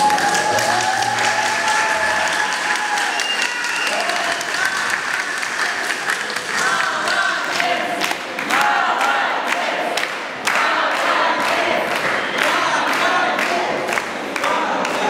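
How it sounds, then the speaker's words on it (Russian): An audience applauds after a recitation of Onegin's letter to Tatiana at a school or cadet stage event, a dense sustained clapping crowd that carries on for the full length with slight swells. "Аплодисменты еще раз."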